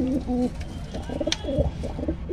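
A female pigeon in a pigeon loft coos in short repeated phrases, close and fairly clear, with faint background noise.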